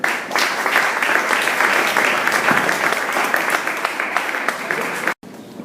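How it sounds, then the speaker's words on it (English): An audience at an entrepreneurship talk bursts into warm applause, loud and continuous many-handed clapping that holds steady for about five seconds before cutting off abruptly. "Let's welcome him with a warm round of applause."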